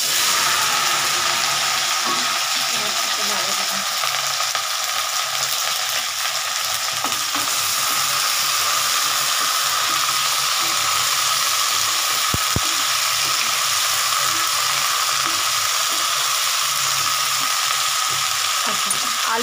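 Green okra frying in hot oil in a pan makes a loud, dense, unbroken sizzle with faint stirring underneath, steady from start to finish.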